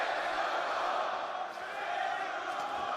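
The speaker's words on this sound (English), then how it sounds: "Crowd is loud." Loud, steady roar of an arena crowd at a UFC fight, a dense wash of cheering and shouting that holds for about three seconds with only a brief dip midway.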